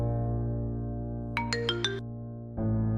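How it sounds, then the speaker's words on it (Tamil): A mobile phone rings with an incoming call, a short run of four bright electronic tones stepping in pitch over steady background music, loud and close, then cutting off. "துர்காமா தான் ஃபோன் பண்றாங்க"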